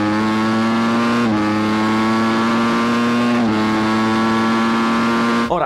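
A Ducati Panigale V4S with a 214-horsepower 1100 cc V4 engine screams at high revs in a loud, steady wail, with brief dips at two gear changes and a sharp drop at the end.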